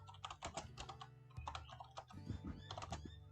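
Rapid bursts of keystrokes on a computer keyboard as a code comment is typed, uneven clusters of clicks with short pauses, close and clear with a steady low hum beneath.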